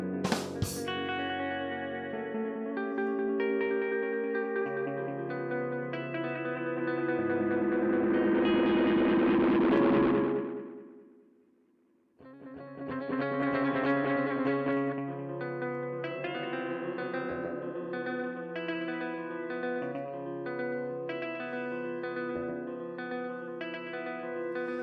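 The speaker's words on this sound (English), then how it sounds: "So you can hear there's a different kind of reverb, delay echo going on there" Notes from a musical instrument pass through a tape echo delay effect in the VariSpeed iOS app. The repeats are heavily reverberant and swell into a dense wash before dropping away briefly. Echoing tones then resume, layered and sustained.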